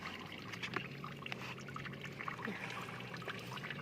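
Brine water pours out steadily in a continuous splashing, trickling stream, heard close and moderately loud with small irregular splashes throughout.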